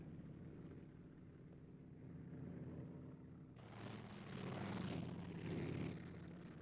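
A Second World War P-47 Thunderbolt fighter circles overhead, a faint, rough, distant engine drone that swells abruptly into a louder broadband roar midway through, as if from vintage film.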